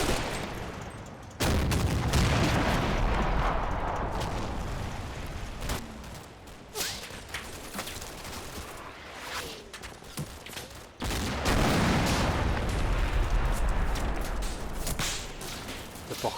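Artillery and small-arms fire in the Combat Mission WWII game pound Normandy bocage hedgerows during Operation Epsom: dense, continuous crackling volleys with sharp whip-like cracks, heavy bursts at the start and again midway, no voices.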